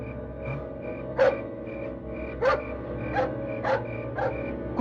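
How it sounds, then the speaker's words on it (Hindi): Dogs barking outdoors at night in a 3D-animated Hindi crime horror story, a series of sharp barks at regular intervals over a droning, tonal background hum, moderately close and clear. "कुत्तों के भौंकने की आवाज"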